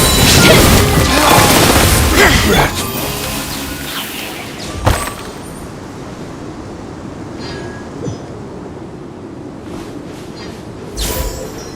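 Explosion from a thrown bomb in Genshin Impact: a loud, dense crashing blast that rumbles and fades, followed by sparse thuds and clanks of combat, with a final burst near the end.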